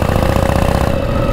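Harley-Davidson Panhead motorcycle engine rumbling steadily through a forest, a loud, close, continuous throbbing idle-like drone with no talk.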